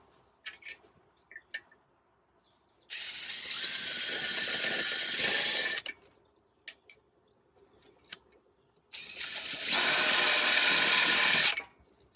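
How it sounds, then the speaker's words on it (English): Two long bursts of a power drill with a concrete bit grinding into concrete, each lasting a few seconds, separated by a pause with faint clicks and handling noises. "when you're using these kind of concrete bits to drill down into your concrete"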